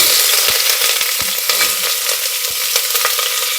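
Onions sizzle as they hit hot oil in a frying pan already holding star anise, bay leaves and cardamom for chicken pulao. A steady, fairly loud crackle carries several sharp stirring clicks, and no one speaks.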